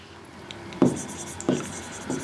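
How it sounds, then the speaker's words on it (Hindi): A marker writes on a board in three distinct squeaky strokes, spaced apart and close by, over a quiet room background. "मैं दोबारा लिख देता हूँ"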